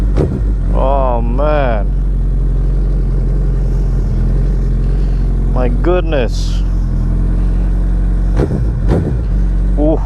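A Suzuki Hayabusa fitted with a Leo Vince slip-on exhaust idles with a deep, steady burble, then its engine rises in three short, loud revs. A man exclaims in amazement between the revs.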